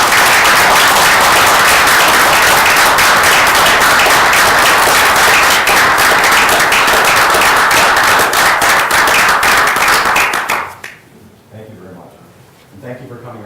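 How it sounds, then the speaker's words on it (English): Loud, sustained audience applause at a council meeting, dense clapping for about ten seconds before dying away into quieter room sound and a few voices. "Big round of applause for that."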